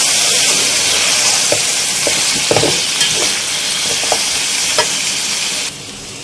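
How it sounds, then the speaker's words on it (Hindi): Mutton with ginger-garlic paste sizzles and fries in a pot with onions, a steady loud hiss broken by scraping stir strokes, before the sizzle drops in level near the end. "और यहाँ इन दोनों चीज़ों को हमें प्याज के साथ अच्छी तरह से तलना है 8 से 10 मिनट तक तकरीबन"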